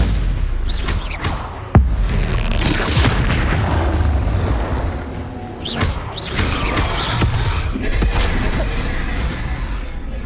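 Spell-casting in the Hogwarts Legacy video game, with magical whooshes and heavy booming impacts from combat over a loud, continuous rumbling background, including a sharp hit near the start.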